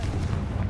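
A Confringo fire spell is cast in Hogwarts Legacy, a short, dense booming blast that lands close and loud.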